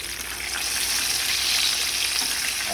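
Puerto Rican crispy fried chicken pieces sizzle steadily in hot oil as they are turned, a dense, even crackle that stays loud and close throughout with no voices.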